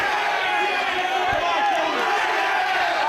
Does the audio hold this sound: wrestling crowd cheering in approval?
yes